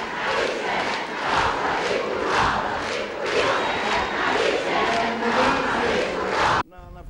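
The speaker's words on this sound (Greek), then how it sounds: "Με ένα παρατεταμένο χειροκρότημα υποδέχτηκαν τον Πρωθυπουργό οι γυναίκες της Νέας Δημοκρατίας." Women of the New Democracy party give the Prime Minister a prolonged welcome, a loud crowd roar of applause and cheering rising and falling in waves before cutting off abruptly near the end.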